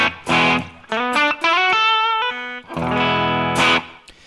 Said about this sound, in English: I've made myself a nice little guitar signal chain here